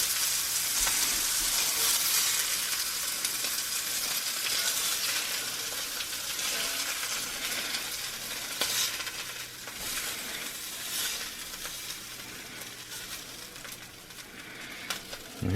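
Spaghetti fries in a cast iron pan with a steady, close hiss and sizzle, with occasional scrapes and stirring clinks over the frying.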